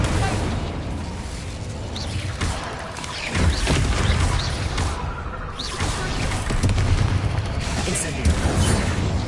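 Incendio and Fringo spells from Hogwarts Legacy go off in a rapid series of loud booms and crashing blasts with whooshing bursts, several impacts overlapping in quick succession.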